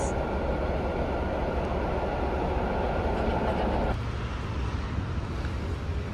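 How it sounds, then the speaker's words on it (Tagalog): An automatic train in Warsaw rumbles steadily, a broad loud roar of the car in motion with wind noise, the pitch dropping slightly partway through; no voices. "Ito train dito sa Warsaw."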